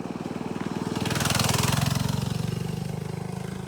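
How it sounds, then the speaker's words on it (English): A small motorcycle-like vehicle rides past, its loud, rapidly pulsing buzzy engine swelling as it nears, peaking, then easing off slightly, heard alone without talking. "Like a little motorcycle or something."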